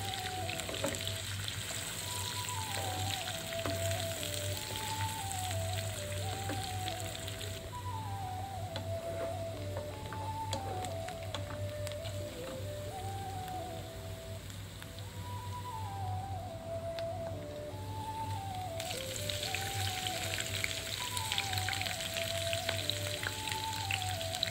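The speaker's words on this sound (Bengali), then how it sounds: "এখন আমি বেছে রাখা শুটকি মাছগুলোকে পেঁয়াজের সাথে দিয়ে কিছুক্ষণ একটু নাড়াচাড়া করে ভেজে নিব" Dried churi fish frying with onion in a pan, giving a steady, close sizzle throughout with soft stirring scrapes, while a repeating melodic tune plays in the background.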